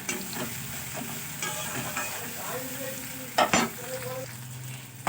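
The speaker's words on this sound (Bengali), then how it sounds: "এটাকে একটু পেঁয়াজের সঙ্গে ভালো করে নাড়াচাড়া করে নেব।" Ginger garlic paste sizzles steadily in hot oil with onion while a spoon scrapes and stirs the pan, with a couple of sharper clanks near the end.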